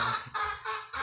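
A pet chicken calls indoors in a house, giving three quick honking clucks in a row, close and clear with no talk over it.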